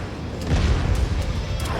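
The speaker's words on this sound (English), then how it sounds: "Atlas down, backstab. Explosion imminent." A mech explodes in the video game MechWarrior 5: a loud, dense rumbling boom swells and then holds as a sustained roar, with no voices.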